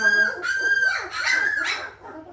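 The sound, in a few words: newborn puppies making noise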